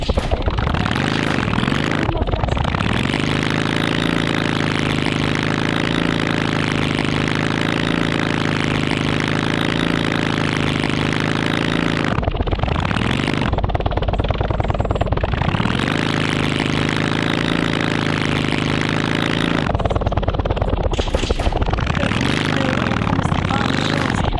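A motorcycle engine idles in a Roblox game, a loud, steady mid-pitched drone that cuts out briefly twice and restarts, with a player talking over it.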